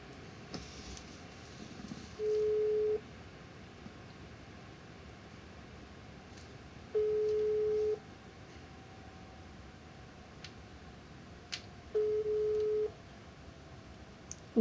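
Phone call tone while calling friends back: three identical steady mid-pitched beeps, each about a second long and roughly five seconds apart, over faint background hiss with no talk.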